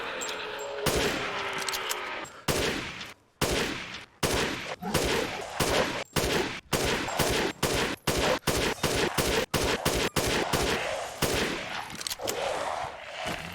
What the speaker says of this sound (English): that took 20 shots to defeat a large lichen with the F2 sniper rifle